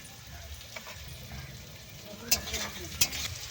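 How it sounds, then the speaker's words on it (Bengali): Onions frying in a pan for a home-cooked chana masala and fried rice meal, giving a steady low sizzle with a few sharp clinks of stirring near the end, close and fairly quiet. "পেঁয়াজ ভাজা হয়ে গেছে লাল লাল করে"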